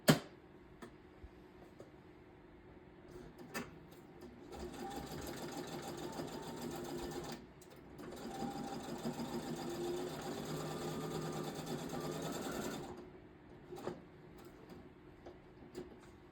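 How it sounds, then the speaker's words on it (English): A sewing machine stitching an appliqué onto fabric runs in two bursts of steady mechanical whirring and rapid ticking, separated by a short pause. Light clicks and handling noises come before and after the runs. "So let me zip this through the sewing machine real quick."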